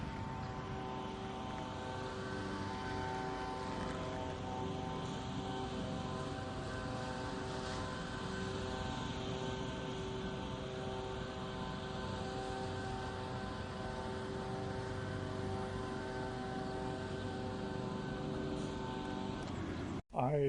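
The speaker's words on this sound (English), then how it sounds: "this small Gillo version powered by a Brown A23 CO2 does fairly well" Small Gillo Grumman Avenger flying model plane powered by a Brown A23 CO2 engine gives off a steady, even, buzzing drone that holds throughout and cuts off abruptly at the very end.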